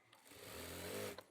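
A sewing machine runs a single short, steady burst while stitching a shirt, with a faint whir swelling and then stopping, recorded quietly.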